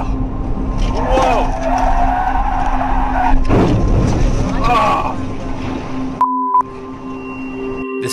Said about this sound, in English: he slams on the brakes, but it's too late to stop his car from crashing into the water